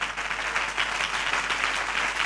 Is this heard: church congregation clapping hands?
yes